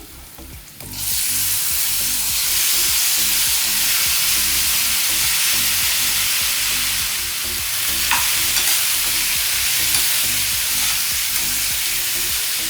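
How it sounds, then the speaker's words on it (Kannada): Chopped tomatoes hit a hot pan for tomato gojju, bursting into a loud, sudden sizzle after a second of quiet, then a dense, steady hiss of frying continues, with no talk. "ಈಗ ಟೊಮ್ಯಾಟೊ ಹೆಚ್ಚಿಟ್ಕೊಂಡಿದ್ನಲ್ಲ, ಟೊಮ್ಯಾಟೊ ಹಾಕೋತಾ ಇದ್ದೀನಿ."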